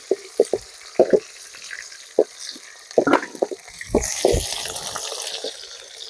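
Curry leaves, green chili and onion go into hot groundnut oil and sizzle in a steady frying hiss that swells near the end. Clattering pops and taps from a pan and utensils break in along the way.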